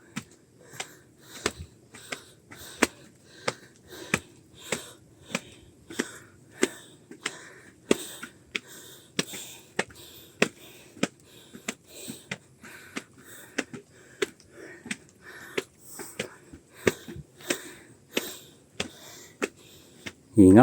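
Heavy, rhythmic panting from a cyclist climbing toward the summit on a bike ride up Mount Amorong, with quick sharp breaths repeating steadily about once a second over a continuous low background of wind and movement.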